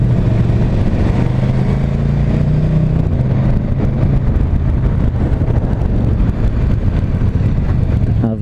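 A 2019 KTM 1290 Super Duke GT motorcycle engine drones steadily while riding, with heavy wind rush over the microphone throughout and a low, constant engine hum.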